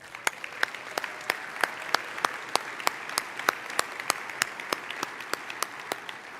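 At a church conference business session, hands clap in a steady, evenly spaced rhythm for a list of congregations, each crisp clap standing out over a quiet room. The sound stays fairly faint and distant.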